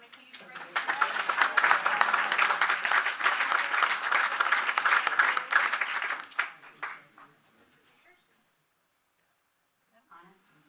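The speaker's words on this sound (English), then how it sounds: "Let's give them a huge round of applause." An audience at a school district board meeting bursts into loud, sustained applause and clapping that lasts several seconds, then fades out and leaves near silence.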